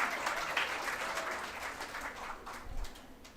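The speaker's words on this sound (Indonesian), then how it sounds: "Mari berikan tepuk tangan." Applause fills a Christmas celebration at GBI IC Penang church as a band is welcomed, a full crowd clapping steadily with a low thump near the end.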